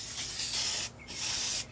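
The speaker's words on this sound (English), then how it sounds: "Quick little spray of brake clean on them." Two quick bursts of brake cleaner spray onto brake rotors from a 1999 Dodge Dakota, each a loud, close, broadband hiss lasting under a second with a brief gap between them.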